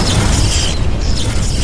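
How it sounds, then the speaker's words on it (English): A single devastating explosion that levels an entire base, a sustained deep roaring boom with broad rumble, loud and continuous for under two seconds. "With a single devastating explosion, Xiaolong obliterated the organization's leader and reduced their entire base to nothing but ruins"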